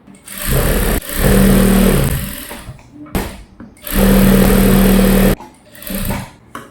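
Electric sewing machine stitching around the neckline of a lined child's gown, two sustained bursts of rapid whirring with brief handling noises between, close and loud.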